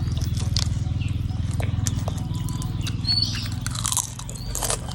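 Close, crunchy chewing of Vietnamese-style rolled rice noodle soup and its crisp side bits, with steady rhythmic bites and crackles over a low background hum and no talk.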